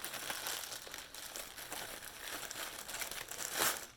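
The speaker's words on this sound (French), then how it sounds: "On reçoit dans du papier de soie." Tissue paper wrapping around new underwear crinkles and rustles continuously as the package is opened, soft and close with a sharper crackle near the end.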